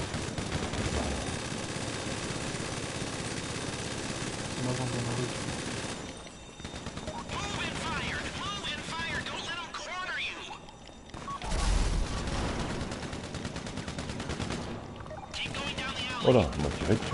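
GTA 5 gunfire, rapid bursts of automatic shots mixed with loud game sound and engine noise, sounding continuously with brief lulls, while players talk over it.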